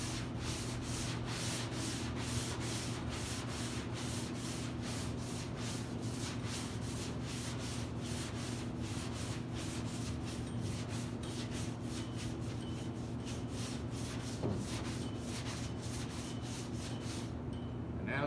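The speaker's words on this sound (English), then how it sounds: "we're going to sand out the guide coat" Steady, continuous block sanding of guide coat on a car hood, a close, even abrasive rubbing worked back and forth in a crisscross pattern with no talk.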